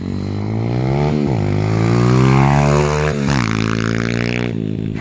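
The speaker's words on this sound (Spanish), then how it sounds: "¿No veis? Ahora cómo suena la moto." A 140cc XL pit bike engine runs loud and steady close by, its strong harmonic drone rising and falling with throttle changes and short dips near the middle and end.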